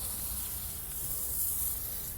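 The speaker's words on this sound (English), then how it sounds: "Anywhere where salt can be hanging out, just spray this on." Steady, soft hiss of a spray nozzle going on continuously, with no breaks and no voices, as foam cleaner is sprayed close by onto a Jeep TJ's frame to remove road salt.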